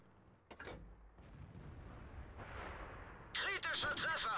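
An artillery gun in World of Tanks firing at a T-32 tank, a few muffled distant booms followed by a sharper, louder report near the end, heard quietly without talk.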